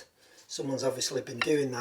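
The dog gear in the back gear of an Elliot pillar drill, damaged and later repaired by welding, clatters with sharp metallic knocks under a man's close-up talk.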